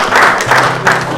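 Hands clapping at a ceremonial gathering, a few loud dull claps in a noisy room, close and brief.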